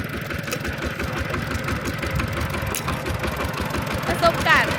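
A tractor engine runs steadily while being driven, with a continuous mid-low rumble and knocking texture at close range; a voice exclaims over it.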